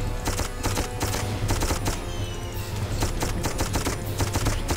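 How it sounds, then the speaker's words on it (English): Continuous rapid automatic fire from a machine gun in the video game Darkest of Days, loud and sustained in dense bursts with no pauses. "So for a machine gun, you can't use it for very long."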